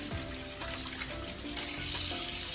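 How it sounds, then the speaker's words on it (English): Hot tap water runs steadily into a kitchen sink to scrub potatoes, a close, continuous broadband splashing with no talk over it. "Run some hot water, get yourself a vegetable scrubber"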